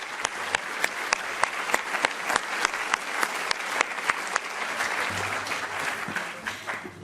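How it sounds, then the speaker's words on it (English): Warm applause from a plenary session audience at a European assembly hall, a steady wash of many hands clapping with sharp individual claps standing out, sustained for several seconds without speech. "I would like to ask you to have your warm applause to our speakers for this contribution"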